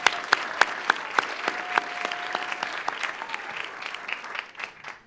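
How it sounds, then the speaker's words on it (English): Applause from an audience at a Law Day event at the North Dade Justice Center, honoring top sponsor Cheryl Berkowitz: steady, fairly close clapping with a few sharp individual claps, tapering off toward the end. "Please, I want another round of applause for her."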